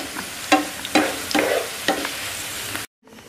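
Ivy gourd (kovakka) fries in hot oil with a steady sizzle, and a spoon scrapes and stirs the pan in several sharp strokes before the sound cuts out near the end.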